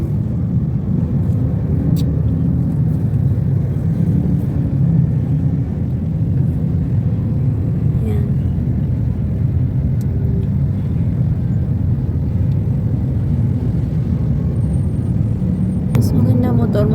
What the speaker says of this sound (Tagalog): ganyan siya ka-traffic dito sa Commonwealth kapag maaga